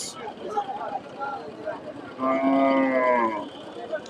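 A crossbred cow at the Hasokhali cattle market in Bogura lets out a loud, drawn-out moo lasting about a second, heard after someone talks nearby amid general market bustle.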